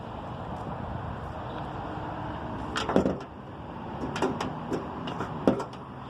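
The bonnet of a 2019 Mitsubishi Outlander Sport is released and lifted, giving a few sharp metallic clicks and clunks near the middle and end over a quiet background hum.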